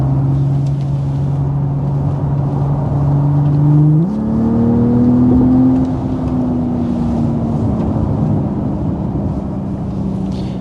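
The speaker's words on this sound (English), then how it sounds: "So they have worked on fine-tuning the exhaust sound" Synthetic exhaust sound of a 2026 Hyundai IONIQ 6 N electric car, a loud droning engine-like tone from inside the cabin that steps up in pitch around four seconds as it accelerates, then holds and slowly settles.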